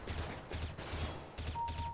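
Bursts of rapid gunfire from a video game, several volleys separated by short pauses, fairly quiet and steady with a low rumble underneath.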